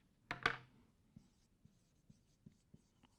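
Pen or chalk strokes during a class lesson: two sharp taps open the clip, then a series of soft, evenly spaced scratches, quiet and close, with no talking.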